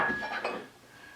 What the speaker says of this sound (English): we're going to put our farro right on in